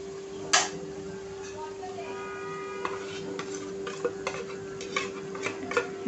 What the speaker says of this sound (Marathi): तो वाटलेला मसाला छान असं तेलावरती परतून घ्यायचा आहे